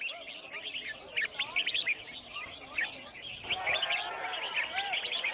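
Exotic birds, captured in the rainforest, sing at a bird singing competition in a Thai wildlife marketplace. Many bright, overlapping chirps and whistled trills sound close and continuous, with busy crowd noise underneath.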